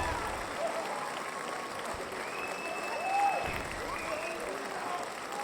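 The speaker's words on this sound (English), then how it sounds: "I'll join in on the clapping a little bit." A large crowd applauds steadily across a city celebration, continuous clapping swelling slightly midway with faint cheers mixed in, heard at moderate loudness.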